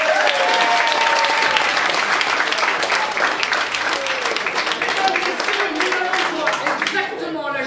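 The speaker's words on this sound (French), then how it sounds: "On applaudit Alison." A studio audience applauds a guest named Alison, with steady, loud, sustained clapping and a presenter's voice heard over it throughout.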